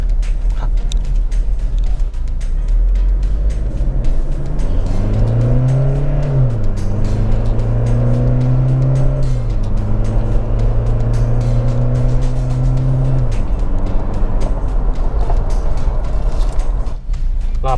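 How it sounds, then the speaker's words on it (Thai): A 2020 Toyota Fortuner with a 2.4-litre engine and an electronic throttle module accelerates hard: the engine note climbs steadily through the gears over a steady road rumble, loud and close, with no talk. "ขึ้นไวดีเหมือนกันครับ ศูนย์ถึงร้อยแป๊บเดียว"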